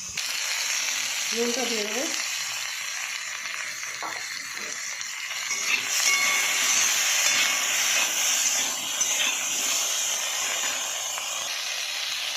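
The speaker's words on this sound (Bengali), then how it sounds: "ফোড়নে সরষে আর শুকনো লঙ্কা দিয়েছি, এটা একটু ভেজে নেবো, একটু ভাজা ভাজা হয়ে যাবে।" Mustard seeds and dried red chillies sizzle and hiss steadily in hot oil in a home kitchen, a continuous frying crackle throughout while someone speaks briefly near the start.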